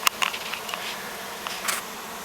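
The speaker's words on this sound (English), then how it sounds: "it's about half a pound of bees or so. And I'm going to force them out with smoke" Roughly half a pound of swarming bees, driven out with smoke, give off a steady close buzzing hum, with a few sharper individual wingbeats flicking past now and then.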